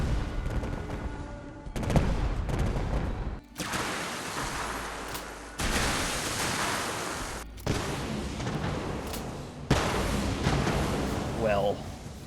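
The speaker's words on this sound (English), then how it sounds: "A grape shot, which shoots a wall of tiny pellets of explosives." Explosive grape shot pellets fired from a launcher in Fallout 4, heard as a run of loud, broadband blasts and crackling bursts in quick bursts of several seconds each, separated by brief gaps, with gunfire-like rumble throughout.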